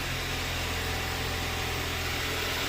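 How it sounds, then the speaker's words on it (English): An Audi Q5 running right after a jump start from a dead battery settles into a steady, close engine hum with an even idle drone and no voices. "Can you rev it up? Hit the gas."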